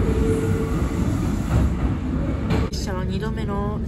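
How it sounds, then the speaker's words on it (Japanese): A Kintetsu train departs Kintetsu Nara Station with a loud, steady rolling rumble and a brief wheel squeal near the end, while someone narrates over it. "定刻通りに近鉄奈良駅を発車していきます。"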